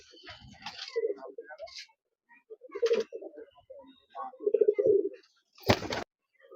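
High-flying pigeons in Beldanga, Murshidabad coo close by in soft, throaty bursts with short pauses between them, ending with a sharp flutter-like burst.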